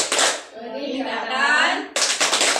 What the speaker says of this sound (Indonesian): ice breakingnya kita main tepuk tangan P2K2